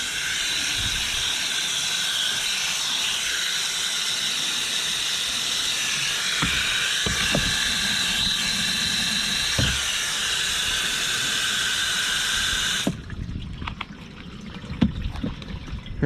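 Water from a hose pours steadily onto clothes to soak and rinse them, a continuous broadband rush that stops abruptly near the end, leaving faint handling clunks.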